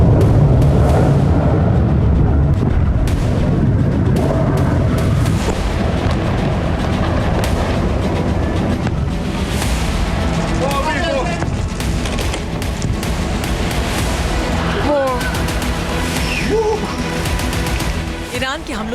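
Heavy booms and rumbling blasts from a ballistic missile attack on Tel Aviv, Israel, loud and continuous with layered crashes and reverberation, mixed with indistinct voices and commotion throughout.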